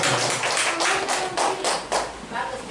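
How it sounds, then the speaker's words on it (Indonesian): A classroom audience claps at a teacher training session, a short burst of scattered hand claps with a few louder taps, fairly close, mixed with faint murmuring. "tepuk tangan dulu"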